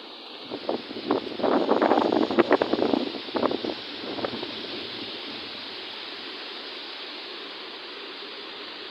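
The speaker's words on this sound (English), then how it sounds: "Wind is blowing, it's already feeling like autumn." Autumn wind outdoors in Berlin rushes past as a broad, steady hiss. It carries a louder gusty buffeting of the microphone early on before settling into a constant breathy roar.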